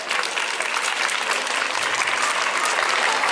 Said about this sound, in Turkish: arkadaşlarımızı alkışlayalım mı?